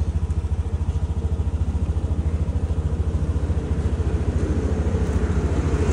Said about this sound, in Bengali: বাইকটা চলে যাক।